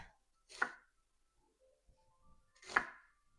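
Knife slicing through an onion on a board, two sharp isolated cuts about two seconds apart with faint quiet handling between them.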